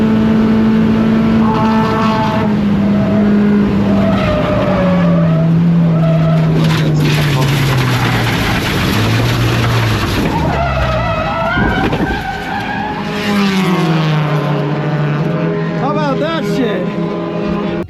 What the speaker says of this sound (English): This Miata racer was over the limit when they entered turn 10 at the Sonoma racetrack